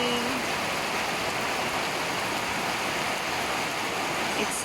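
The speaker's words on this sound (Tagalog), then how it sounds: "It's heavy rain." Heavy rain falls over Baguio City in the Philippines, a dense, steady roaring wash of rain with no breaks, moderately loud and even throughout.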